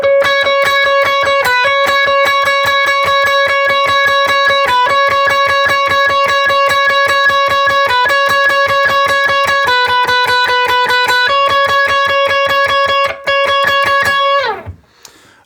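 Clean electric guitar strings picked with little amplification, a steady rhythmic run of bright plucked notes playing a worship song. The notes are loud and close, and the last ones fade out quickly at the end.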